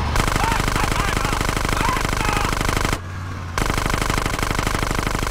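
Rapid submachine gun fire in the video game GTA San Andreas, a loud continuous burst with a brief half-second gap near the three-second mark before firing resumes, with game sounds mixed in.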